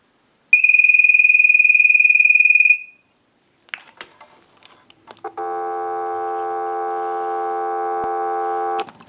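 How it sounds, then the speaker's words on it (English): A ring burst from a North Electric Ericofon rotary dial telephone fades out, followed by a few faint clicks, then a loud, steady telephone dial tone holds to the end. "we'll give you some dial tone"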